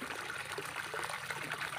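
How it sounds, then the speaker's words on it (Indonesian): Water sprays and trickles steadily from a rotating sprinkler-style waterfall built from old pipe over a fish pond, a soft continuous hiss close by with no talking. "dari hasil gaya dorong-mendorong yang air keluar ini Maka terciptalah putaran di pipa tersebut"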